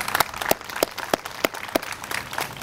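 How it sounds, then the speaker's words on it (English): Audience applauding after a dance performance at an outdoor Peruvian flag-raising ceremony, a steady patter of many hands clapping with a few sharper claps standing out, moderately loud and without talk. "Can we please give another round of applause?"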